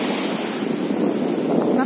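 Sea waves wash at a nearly empty beach at Golubitskaya in warm September weather, a steady close surf roar mixed with wind buffeting the microphone.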